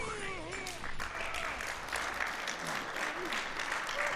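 An audience at a speedrun marathon event claps steadily in a dense, sustained wash of applause while a voice talks over it.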